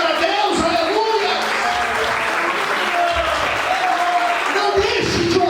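A church congregation applauding in praise, a dense steady clapping that fills the space with a few voices and a sustained tone mixed in underneath.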